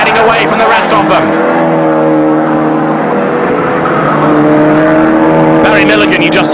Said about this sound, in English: You can see in the mirror there, another car goes past.